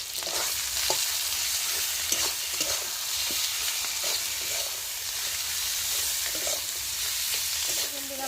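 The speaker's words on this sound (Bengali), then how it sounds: "হলুদের গুঁড়ো লঙ্কার গুঁড়ো জিরে বাটা আদা বাটা দিয়ে ভালো করে কষিয়ে নেব" A paste of turmeric, chili powder, ground cumin and ginger paste fries in oil for a parshe fish dish, a steady loud sizzle with scattered scraping stirs throughout, close and without talk.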